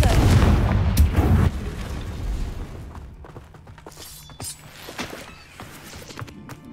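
A Confringo blasting spell going off in the video game Hogwarts Legacy, a loud shattering burst near the start that fades into scattered smaller impacts and clatter, with a voice faintly present.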